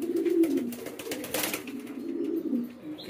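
Soft low cooing from a wild rock pigeon trying to impress another pigeon on a farm, a steady murmuring coo running through the clip at close range with no talk.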